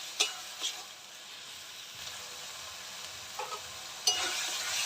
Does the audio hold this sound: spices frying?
yes